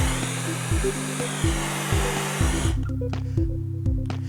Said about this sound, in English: move the flame in an even motion across the whole surface of the steak, and don't forget the sides